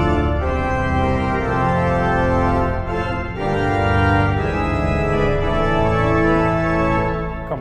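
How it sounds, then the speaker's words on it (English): A sustained chord passage on an Austin pipe organ with all the normal stops of one manual drawn, full and dense, swelling steadily with a brief dip midway and no talking. "If we combine all of the normal stops, we end up with something"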